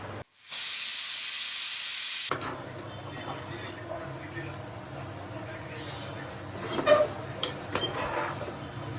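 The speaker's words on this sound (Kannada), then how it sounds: "ವಿಷಲ್ ಹಾಕಿ ನಾನು ಎರಡು ವಿಷಲ್ ಓಡಿಸ್ತೀನಿ" A pressure cooker cooking chicken biryani lets out a loud, steady steam whistle for about two seconds, then falls quiet as someone talks over faint kitchen background noise.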